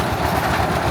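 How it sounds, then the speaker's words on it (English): A toy train running on its tracks at Elephanta Caves near Mumbai, a brief, steady, loud rolling rumble with no voices. "this is the toy train."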